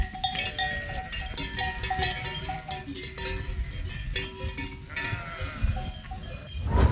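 A flock of sheep on open countryside, cowbells clanking steadily and fairly close throughout, with occasional faint bleats mixed into the ringing.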